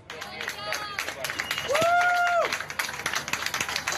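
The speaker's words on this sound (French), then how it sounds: "Les migrants descendent sous les applaudissements." Scattered applause and clapping from a crowd outdoors at the port of Valencia as migrants come ashore, with voices and a brief high whistle-like tone rising over it.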